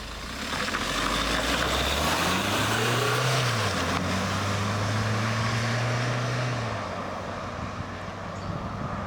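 A 2023 Mahindra PikUp ute with a four-cylinder engine pulling away while driving, its steady engine drone rising in pitch through the gears and then easing back, loud and close with no talk.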